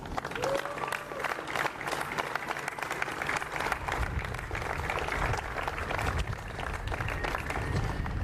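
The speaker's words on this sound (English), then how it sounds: "I'd love to give a great round of applause to Eric Tohier" Sustained applause and crowd cheering fill a stadium during the Audi Field opening ceremony, a dense, steady wash of clapping from a large crowd lasting throughout.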